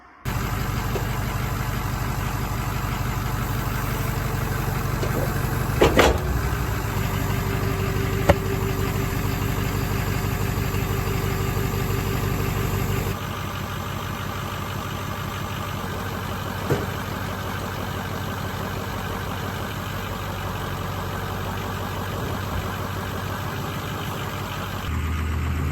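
A 6-liter engine idles steadily in a crane truck, a dually pickup fitted with a 7,000-pound boom, giving a continuous low rumble with a faint metallic tick near six seconds and a slightly quieter stretch from about thirteen seconds on.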